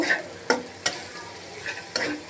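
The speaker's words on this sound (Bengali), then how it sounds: "দিয়ে ভালো করে আমি মশলাটা ভেজে নেব।" Spices with salt and turmeric fry in a pan while a spoon stirs them in several sharp, separate scrapes over a soft, quiet sizzle, close by and without talk.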